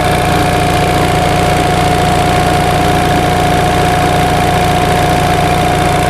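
A 1945 ONAN generator engine runs under full load with a loud, steady mechanical drone, a constant pitched whine riding above it, and no change or pause throughout.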